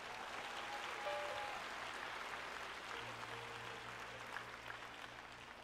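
A church congregation clapping along during a harvest-time call to praise, a steady broad wash of hand claps at moderate distance with a low sustained hum and some crowd murmur underneath.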